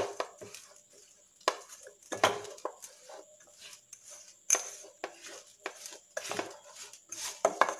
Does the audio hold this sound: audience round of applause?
no